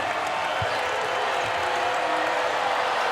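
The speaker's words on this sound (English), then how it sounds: "Crowd is up and roaring" The home arena crowd roars at a Gonzaga vs UC Irvine women's March Madness basketball game. The wall of cheering and applause is loud and sustained, with no single voice standing out.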